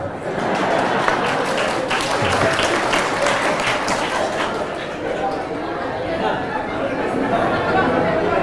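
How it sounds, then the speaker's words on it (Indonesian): An audience at a large Islamic religious gathering for a pesantren in East Lombok claps together, a dense, continuous wash of applause mixed with crowd chatter that holds steady throughout. "kalau mau tepuk tangan serentak, jangan satu-satu"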